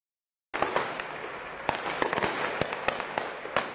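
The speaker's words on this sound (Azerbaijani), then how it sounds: "ölkənin ən böyük şəhəri Almatıda atəş səsləri eşidilib" Gunshots on a street in Almaty: after a brief silence, a dense crackling background is punctuated by a series of sharp, irregular bangs, several in quick succession, moderately distant.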